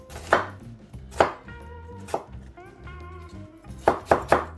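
A knife chops through an onion on a cutting board, sharp, close knocks landing in uneven bursts, some single and some in quick pairs, while a steady tonal hum sits underneath.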